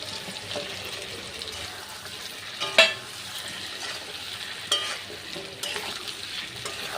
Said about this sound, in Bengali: ভালো করে কিন্তু মশলার সাথে সবজিগুলো কষিয়ে নিতে হবে